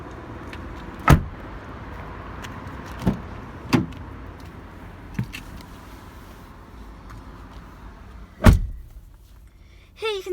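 Someone climbs into the driver's seat of a blue Honda HR-V, with a few soft thumps and shuffles as they settle in and a heavy door thud near the end, all close and with no talking.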